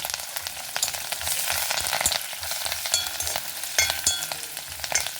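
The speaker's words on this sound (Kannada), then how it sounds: "ನೋಡಿ, ಬೇವಿನೆಲೆ ಹಾಕಿಬಿಡುವ." Curry leaves hiss and spatter in hot tempering oil holding mustard seeds, urad dal and green chillies, a steady close frying sizzle broken by crisp pops and occasional stirring scrapes, with no voices.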